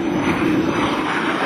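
An airshow airplane makes a flat pass overhead under a low cloud ceiling, a continuous engine drone holding steady and fairly loud for the whole moment, with no talking over it.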